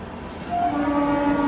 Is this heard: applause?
no